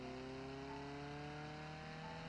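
A modded car engine in the driving game BeamNG drones steadily, its tonal hum holding at a constant pitch throughout with a faint, even quality and no speech.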